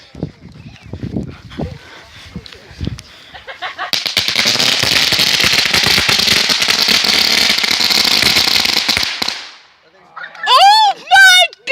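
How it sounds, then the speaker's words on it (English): A string of 300 mini firecrackers goes off outdoors in a loud, rapid crackling barrage lasting several seconds, preceded by scattered pops and followed by excited shouting and voices. "Oh, 300. 300 firecrackers."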